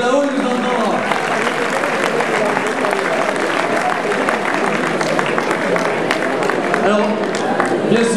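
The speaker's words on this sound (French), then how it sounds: "je voudrais qu'on l'applaudisse." Crowd applause after a cycling race, the Boucle du Confluent, as people gather once the riders finish. Dense, steady clapping fills the whole stretch without a break, loud and close, with voices mixed into the noise.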